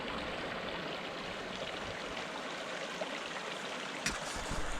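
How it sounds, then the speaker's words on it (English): Fast, high-running stream water rushes steadily near a beaver lodge on a trapping set, a close, continuous broadband roar with a brief splash near the end. "you can just hear how hard that water's running"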